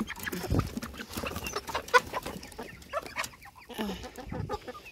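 Chickens cluck in short, scattered calls at a moderate distance, with a rooster among them and faint farmyard background noise.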